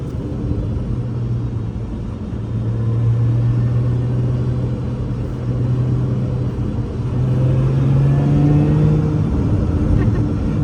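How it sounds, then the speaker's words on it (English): A steady high-pitched supercharger whine rises and falls over a loud Lotus Emira engine rumble on a race track, close by behind the driver's head and continuous throughout. "You hear the supercharger whine, of course, right behind your head."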